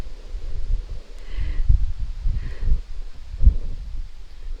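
Gusty wind rumbles against the microphone at an outdoor camping spot where chicken chow mein is being cooked in a wok, irregular low buffeting swelling and fading throughout.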